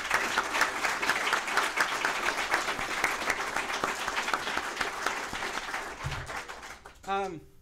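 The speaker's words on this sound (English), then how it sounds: "If we could just give them a round of applause." Applause from an audience at a Ruby and Python programming Q&A session, a steady crowd clapping that fills the whole stretch and fades near the end, where a brief bit of other sound appears.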